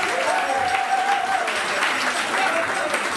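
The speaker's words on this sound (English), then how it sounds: "Come on, let's get a better round of applause." Wedding guests clapping loudly for the newly married couple just before their first dance, a dense, sustained round of applause with crowd voices mixed in.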